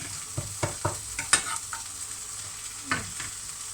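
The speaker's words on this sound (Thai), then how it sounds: "ัวเน่าต้องกลับบ่อยๆไม่งั้นไหม้จ้ะ" Fermented soybeans stirred and turned in a hot pan for Thai chili paste with salted fish, giving several scraping, sizzling strokes at irregular intervals, close and fairly loud.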